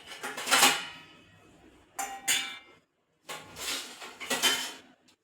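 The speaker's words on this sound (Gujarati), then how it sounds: "આ વાસણ ગોઠવી નાખો" Steel kitchen vessels being stacked and put away after washing, with bright clinks and clangs in three short bursts separated by brief pauses, fairly close by.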